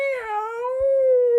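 A human voice imitates a cat's meow, one drawn-out tonal mew that dips then levels off, clear and alone.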